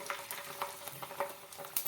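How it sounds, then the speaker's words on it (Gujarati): Sago papad crackles and sizzles in hot oil, a continuous fry with sharp pops scattered through it. "હવે આપણે બીજા પાપડને પણ નાખી દઈએ અને તેને પણ તળી લઈએ"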